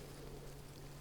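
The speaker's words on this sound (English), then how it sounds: "And there's a boat coming." A boat motor drones steadily as a boat approaches across a fog-covered lake, a faint, continuous low hum with a soft wash of water and wind, no voices.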